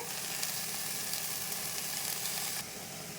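Chopped fenugreek leaves fry in a hot pan with a steady, close hissing sizzle throughout, easing slightly in loudness near the end, with no talking.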